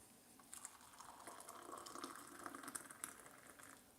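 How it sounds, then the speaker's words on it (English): Boiling water poured from a kettle into a mug holding a tea bag and a little sugar, a steady close splashing trickle lasting several seconds with no talk over it. "then we're just going to add the boiling water"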